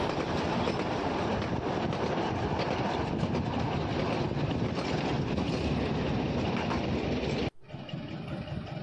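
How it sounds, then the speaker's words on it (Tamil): A toy train runs along the track at Elephanta Caves in Mumbai, a steady close rumble with clickety-clack that cuts off abruptly near the end, leaving faint background. "இதுதான் அந்த டாய் ட்ரெயின்."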